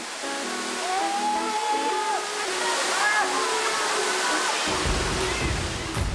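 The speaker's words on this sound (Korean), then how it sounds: "덕분에 이렇게 깊은 산속에 멋진 온천 폭포가 흐르게 됐습니다" Deep in the mountains of Sichuan, China, a hot spring waterfall pours with a loud, constant rush, while a voice narrates over the water for the first few seconds.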